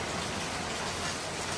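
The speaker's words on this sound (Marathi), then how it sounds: "हे बघा पाऊस काहीतरीच लागता, मरणाचा पाऊस लागता" Heavy monsoon rain pouring down outside during a stormy rainy-season stay, a dense, steady broadband hiss of drops with no gaps, fairly close and uniform throughout, with no voices.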